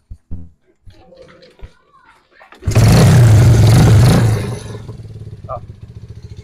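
A stripped-down skeleton motorcycle with no battery roars briefly up close, a loud rasping burst lasting over a second that then drops to a quieter, uneven idle, with talking heard before it starts.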